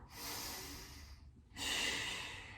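Two long, close breaths during a Pilates stretch, each a soft airy rush separated by a short quiet gap, heard alone without talk.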